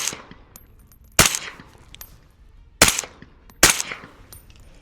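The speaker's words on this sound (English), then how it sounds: "Let's get a couple more shots here." .308 rifle shots crack out at night, three sharp, loud reports spaced a second or more apart, each trailing off in a short echo over quiet background.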